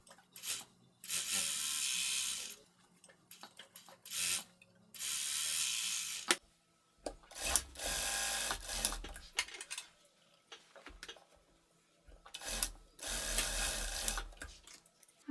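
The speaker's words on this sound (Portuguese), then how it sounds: "Vou passar uma costura na máquina overlock e em seguida uma costura na máquina reta." An overlock sewing machine stitches a seam on a long tailored vest in three bursts of loud, fast mechanical whirring, each a few seconds long and separated by short pauses with quieter handling of the fabric.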